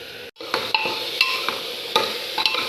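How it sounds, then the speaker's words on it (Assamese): Spice masala is stirred in a pan while curry cooks, giving repeated scraping stirs and clinks over a soft sizzle, with irregular strokes close by. "মছলাটো লাৰি থাকিব।"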